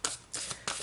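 Tarot cards being shuffled close up: three quick, crisp riffling bursts in steady succession, with short pauses between them and no voices.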